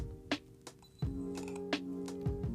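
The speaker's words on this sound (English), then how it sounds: "Plays the shutter noise like when you take a photo." A phone case on a wireless charger gives off a short electronic camera-shutter click several times, each a crisp brief snap over a low hum, with a few soft clicks between them.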